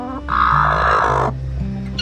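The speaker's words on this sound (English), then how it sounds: "This is the first broody hen we have had yet this year." A broody hen in a chicken coop gives a loud, close, drawn-out harsh vocalization lasting about a second, with shorter low clucks before and after it and no voices.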